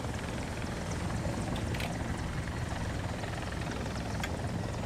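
A helicopter rotor in the War Thunder video game drones with a dense, steady low thrum and rushing wash throughout, loud and unbroken, with no voices.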